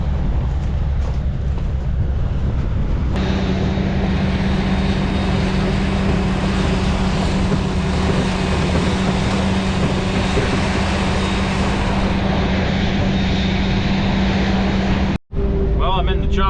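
A forage harvester runs steadily close by, chopping silage in a 40-acre field, giving a continuous loud mechanical drone with a sustained low engine tone. It cuts out briefly near the end.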